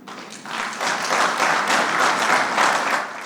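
Applause swells in a parliament chamber during a state of the nation speech, many hands clapping steadily for a few seconds before tapering off.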